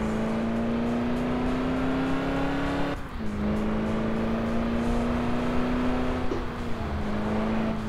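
Car engine revving hard with tires screeching in the Crash Time 5 driving game, a loud sustained drone that briefly dips and climbs again, with no talk.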